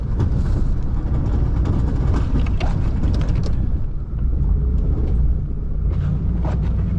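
A plow truck clearing early-morning snow creeps slowly over icy ground, its engine a low, steady rumble with crunching and rattling from the tires and body, with no talking.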